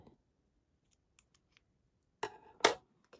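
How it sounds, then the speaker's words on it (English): Scissors snip through the loose cord tails of a bead bracelet, giving two short, crisp cuts close by, each followed by a brief rustle, with a few faint ticks and light handling sounds beforehand. "We're going to give them a snip."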